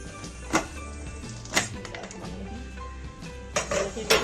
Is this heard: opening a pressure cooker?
yes